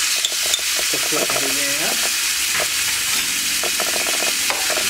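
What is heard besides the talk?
meat being stirred while frying in a pan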